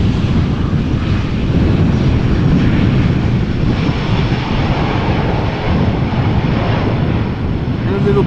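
An airliner landing in a gusty crosswind at Amsterdam Schiphol airport gives a loud, continuous engine roar mixed with heavy wind buffeting on the microphone, steady throughout with voices faintly under the noise.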